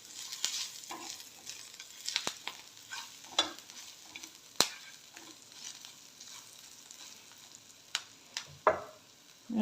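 Onions fried with a pinch of asafoetida are stirred in a pan for a black chickpea salad, giving a steady soft sizzle broken by scattered scraping strokes and clicks, close and fairly quiet, with no talk.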